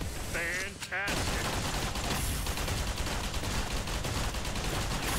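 Dense, continuous rapid-fire gunfire in GunZ 2: The Second Duel, sharp overlapping shots, loud and unbroken after a brief synthetic whoosh at the start.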